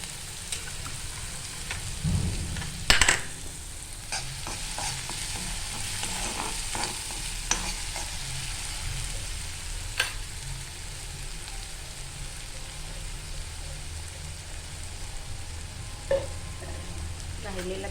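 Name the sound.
chopped onion added to hot oil with cumin, frying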